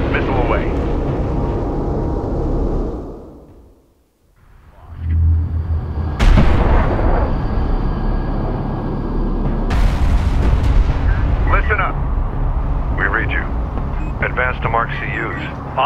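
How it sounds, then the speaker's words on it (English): Missile launches and artillery fire in the strategy game Homeworld: Deserts of Kharak, loud booming blasts and rumbling engine roar over a steady battle din, with radio voices talking throughout. "Set, missile away."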